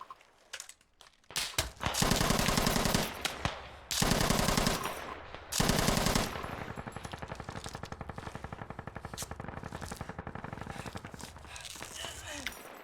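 Video game machine gun fires long automatic bursts, loud and close, with a few short gaps between strings of rapid shots and a spoken voice over part of the firing.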